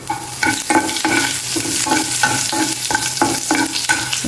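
Steady crackling sizzle of curry leaves frying in hot oil, with rhythmic stirring scrapes repeating about every half second, close and loud.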